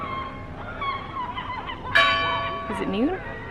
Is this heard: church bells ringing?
yes